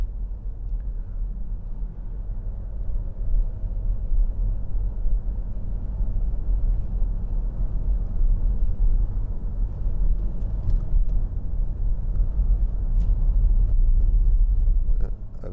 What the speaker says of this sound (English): A van driving very close to me